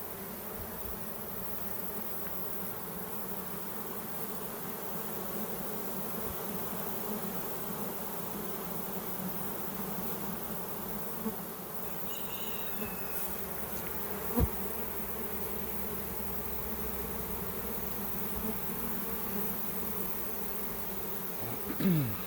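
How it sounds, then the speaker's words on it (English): A swarm of honey bees trying to move into an already packed hive box makes a faint, steady, even buzz that continues without break, with a few soft knocks near the end. "There's a lot of bees here."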